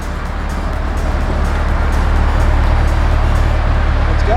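Yellow C8 Corvette pulling away, a steady low engine rumble and broadband road noise building slightly in loudness over a few seconds, close and continuous with no talk.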